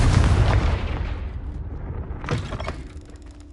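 A Confringo blasting spell explosion in Hogwarts Legacy, a loud booming blast with rumbling low end that fades over a few seconds, followed by a smaller crackling burst.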